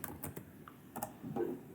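Commands typed on a computer keyboard: a handful of sharp, close keystrokes in irregular bursts against a quiet room background.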